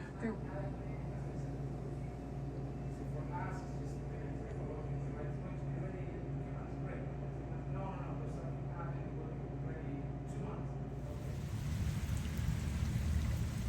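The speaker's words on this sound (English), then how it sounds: "It's raining so much that it's completely covered the sidewalk here." Heavy rain pours steadily onto a flooded sidewalk, a dense continuous hiss that swells louder near the end, with a person talking throughout.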